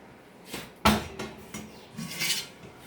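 A pot of milk set down on a kitchen stove: one sharp metallic clank followed by a few softer scrapes and knocks of metal against the burner, close and fairly quiet.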